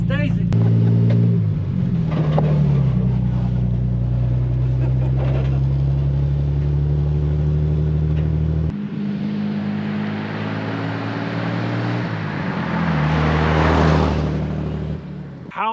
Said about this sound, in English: Plymouth Deluxe that was parked 65 years ago, and we just took it on its first drive